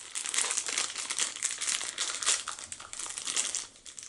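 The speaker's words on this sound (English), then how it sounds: "there's a sealed black plastic bag inside here" Close, steady crinkling and crumpling of a sealed black plastic bag being handled while unboxing a Funko figure, with dense rustling bursts running throughout and no talking.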